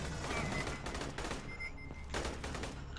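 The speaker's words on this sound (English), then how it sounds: "Who's shooting at me and I'm out directly in the open?" Gunfire in the video game Aliens: Colonial Marines: loud, dense bursts of rapid shots with brief pauses between volleys and no speech.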